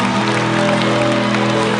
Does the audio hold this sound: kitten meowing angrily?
no